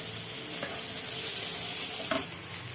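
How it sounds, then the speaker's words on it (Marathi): Onion and tomatoes fry in hot oil with salt in a home kitchen pan, giving a steady, close sizzle throughout with a couple of brief stirring scrapes and no talking. "कांदा आपला ना लवकर तेलामध्ये भाजत नाही"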